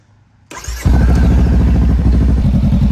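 Honda Rebel 500 motorcycle engine cranks and fires after a jump start from a dead battery, then settles into a loud, steady, close idle after a brief quiet moment.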